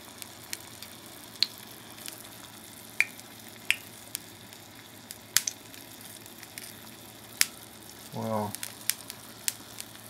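Water in a Tibetan singing bowl set in an oil bath on a gas range boils with a faint, steady sizzling bubble, dotted with scattered small pops and a brief low murmur near the end.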